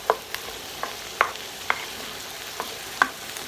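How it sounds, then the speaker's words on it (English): Brussels sprouts searing in a pan on the stove, heard as a soft, sparse run of crackles and spits, a handful of sharp pops spaced irregularly over a faint background. "we got these searing on the stove"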